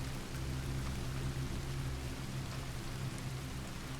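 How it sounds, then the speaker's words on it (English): Steady rain hisses in Red Dead Redemption 2 Online, a continuous, even wash of soft noise with a low rumble beneath, heard alone at a quiet level. "You can hear the rain."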